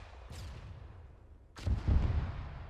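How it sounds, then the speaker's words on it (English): Rocket launches and explosions in a military shooter game: one sharp blast, then a louder boom about a second later that rumbles on with low, heavy energy. "Rocket, rocket, rocket!"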